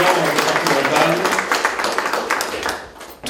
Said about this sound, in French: Bravo, on applaudit Françoise, notre président départemental.